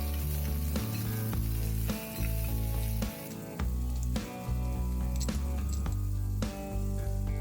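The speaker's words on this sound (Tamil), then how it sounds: "இப்போ சின்ன வெங்காயம் போட்டு நல்லா வதக்கிக்கோங்க" Small onions sauté for an okra curry, hissing and sizzling loudly in a pan while a spoon stirs, with steady frying under faint background music.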